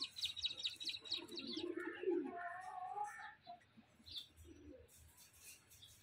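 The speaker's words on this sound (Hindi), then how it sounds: "इस साइड पे हमारे पैरट्स वगैरह भी नीचे उतरे हैं, दाना वगैरह खा रहे हैं।" Parrots and finches come down to the ground to peck at scattered grain: bright chirps and tweets mixed with soft cooing, close but fairly quiet, with a few scattered calls.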